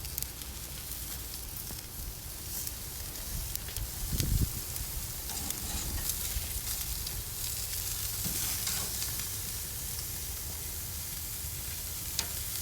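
A freshly flipped steak sizzles steadily on a grill, a continuous close frying hiss with crackling and a few brief louder pops, no talking.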